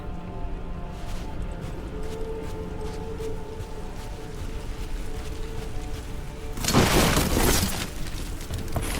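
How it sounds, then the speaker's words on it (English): Wooden boxes smashed in the video game Dragon Age: The Veilguard, a sudden loud shattering crash near the end over a steady hum of in-game ambience. "Also, smashing boxes."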